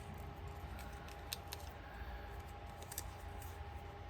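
Scissors trim away excess shiny material with soft, faint snips spaced over a few seconds, set against a quiet, steady background hiss.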